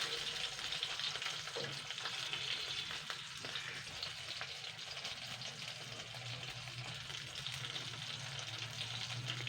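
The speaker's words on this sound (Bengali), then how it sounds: "দেখুন এগুলো কিন্তু সুন্দর ভাজা হয়ে গেছে" Loitta (Bombay duck) fish frying in hot oil, a steady close crackling sizzle that holds for the whole stretch, with occasional soft scrapes and stirring sounds and no talking.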